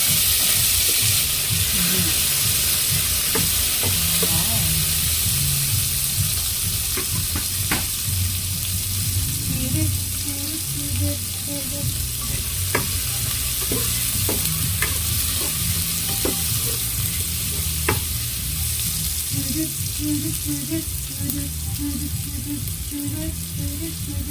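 Chopped tomato and garlic fry in a hot pan for dinner, giving a constant loud sizzle and hiss broken by frequent sharp scrapes and clicks of a stirring spoon against the pan.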